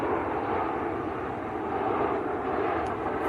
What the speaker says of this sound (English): This is Ryanair from Dubbers. Polish registered Ryanair, SPRZK